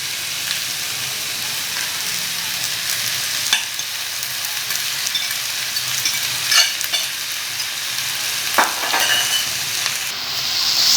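Spaghetti being stirred into frying vegetables in a pan for cheesy spaghetti, a constant close sizzle with occasional soft scraping and clinks of the spoon, no voices.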